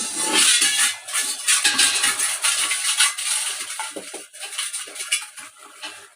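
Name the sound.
stirring turnip, peas and fenugreek curry with ground coriander in pot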